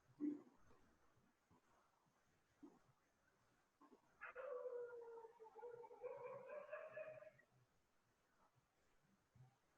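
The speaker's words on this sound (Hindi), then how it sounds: "कुत्ते की आवाज सुन रहे हैं" A dog howls far off, one faint drawn-out wavering howl rising over a quiet outdoor background with a few soft distant barks before and after.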